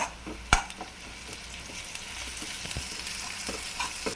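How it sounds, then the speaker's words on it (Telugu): Ginger paste fries in a pan with a steady, close sizzle, broken by a sharp knock and occasional light clicks of stirring; no voices. "అది అల్లం పేస్ట్ కూడా కొంచెం పచ్చివాసన పోయేదాకా వేయించుకోవాలి"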